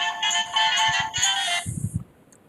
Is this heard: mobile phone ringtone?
yes